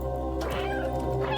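A dense flood of cat meows from a video game speedrun, many overlapping into a continuous, loud chorus of mewing and caterwauling with no gaps.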